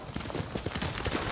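Horse hooves clip-clop at a gallop in the Ghost of Tsushima video game, a steady rapid rhythm of fairly loud, close thuds over a wind-like game backdrop.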